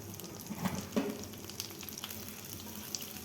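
Cinnamon, cloves and bay leaves fry in melted butter with a steady, faint sizzle. Soft stirring clicks sit close under the crackle.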